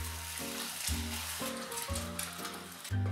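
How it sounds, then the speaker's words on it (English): An egg fries in hot oil in a pan for a Taiwanese-style breakfast sandwich, with a steady close sizzle and crackle alongside a low tonal hum, and no talking. "Next, we're gonna heat up some oil in a pan and we're gonna fry an egg."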